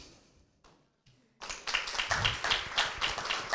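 A few scattered claps open before a school award ceremony crowd bursts into lively applause for a young prize winner, rising to a brisk, fairly loud clatter of many hands.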